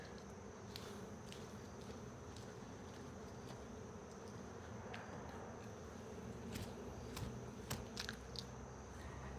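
Honey bees hum around an open hive during a late-September colony check, a steady low drone with scattered sharp ticks and clicks from hive tools and frames throughout; no one speaks.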